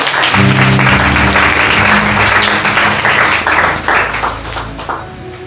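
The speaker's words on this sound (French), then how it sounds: "Est-ce que tu peux acclamer pour toi-même?" A church congregation applauds and cheers loudly, a thick wash of clapping with sustained voices and tones underneath that gradually fades toward the end.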